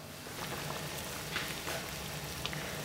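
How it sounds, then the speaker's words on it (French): Brown veal stock with bones set to simmer in a pot, a soft continuous bubbling hiss with occasional small pops, steady and fairly quiet. "je lance ma préparation à mijoter"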